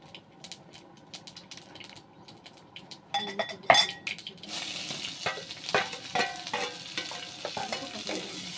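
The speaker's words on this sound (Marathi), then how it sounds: "टाकले गवारीची भाजी करायला जिरे मोहरी टाकली" Cumin and mustard seeds hit hot oil in a pan for a cluster bean dish, cooked on a wood-fired stove; after a quiet start the crackling sizzle jumps up suddenly, with scattered pops and utensil clinks, up close.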